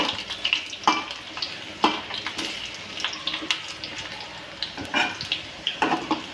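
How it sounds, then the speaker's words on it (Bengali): Garlic and onion sizzle in hot oil for tempering cooked greens, a steady crackling fry with brief louder bursts of spatter and stirring, close and without talk. "আমি বাগারে দেওয়ার জন্য রসুন আর পেঁয়াজ দিয়ে দিয়েছি এটা বাগার দিব"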